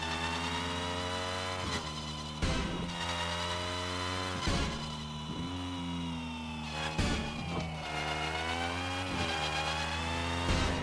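A race car engine roars in the Screw Drivers video game, holding loud sustained revs with sharp gear-shift breaks every couple of seconds as it accelerates repeatedly.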